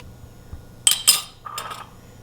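A spoon stirs tomato paste into turkey tortilla soup in a pot. A few sharp metal clinks ring out, close and brief, then a softer scrape, over a quiet background with no talk.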